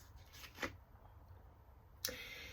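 Playing cards being shuffled, a short riffle burst near the middle and another crisp riff near the end, close and quiet, with no talking.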